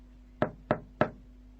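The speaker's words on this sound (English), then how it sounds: "He knocked on the door." Three evenly spaced knocks on a door, sharp and close, against a faint steady hum.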